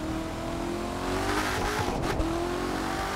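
A Corvette ZR1 in the racing game The Crew 2 revs hard and accelerates, its steady engine drone rising and falling in pitch, with a brief tire squeal near the middle, loud and close with no talking.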